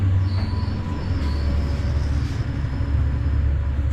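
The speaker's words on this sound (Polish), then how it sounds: "A to jest właśnie najnowszy wagon. Pachnie jeszcze, ale mam zaszczyt jechać nim." A brand-new 176A-10 second-class railway passenger car rolls along the rails, giving a steady, close, continuous low rumble with faint metallic squeals above it and no talking.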